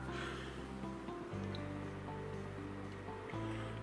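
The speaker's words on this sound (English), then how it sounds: "let's press some hot water inside." Outin Nano portable espresso machine pumping hot water in a steady, loud, rushing whir with a droning tone that shifts pitch twice as the pump works.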